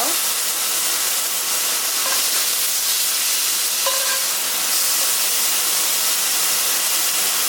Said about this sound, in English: we're just gonna lay our lamb chops in there just like so